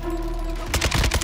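Rapid automatic gunfire in the video game Warzone 2 in third-person mode, a burst of sharp, loud repeated shots cutting in after a tonal hum, with no talk.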